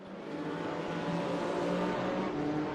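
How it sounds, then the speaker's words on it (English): A Porsche RSR race car engine in the RaceRoom racing game holds a steady, loud, buzzing drone with layered harmonics, running continuously without a break. "I hope you guys can hear the sound of the car well"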